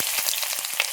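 A roughly chopped large onion hits hot oil in a pan, giving a brief, steady sizzle dotted with fine crackles and pops.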